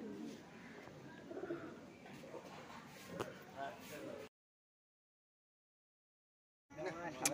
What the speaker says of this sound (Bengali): এই আমার চারটে পায়রা